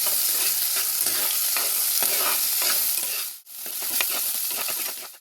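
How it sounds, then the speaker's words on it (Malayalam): Steady, loud sizzling of green chillies and shallots sautéing in a hot pan with stirring scrapes, a brief pause partway through, then the frying resumes. "പച്ചമുളക്, ഇത്രയും ഒന്ന് വഴറ്റിയെടുക്കാം."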